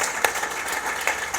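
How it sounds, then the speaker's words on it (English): A short burst of applause from a small group, light, fairly even clapping with a few sharper claps standing out, brief and moderately loud. "So, round of applause."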